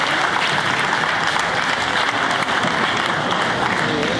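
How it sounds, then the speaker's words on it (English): Audience applause for the finalists of the 2019 Kansas Auctioneer Championship, a loud, dense, continuous clapping from a crowd that fills the clip without letup. "give all these finalists a round of applause."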